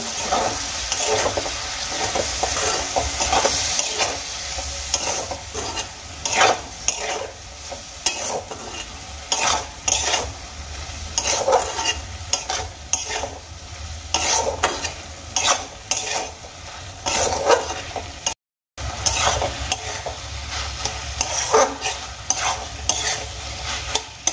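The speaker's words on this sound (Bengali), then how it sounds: "এবার মশলাগুলোকে খুব ভালো করে কষিয়ে নেব।" Ground spices and potatoes for begun aloo jhal fry in a pan with a splash of water, sizzling steadily while a utensil stirs and scrapes in repeated, close strokes throughout.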